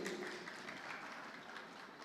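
Applause from an audience at a live crowning night pageant in Banda Aceh, steady continuous clapping throughout, moderately distant and fairly quiet, with no voices over it.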